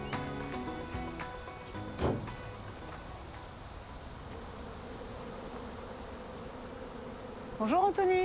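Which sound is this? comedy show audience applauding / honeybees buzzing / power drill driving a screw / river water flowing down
honeybees buzzing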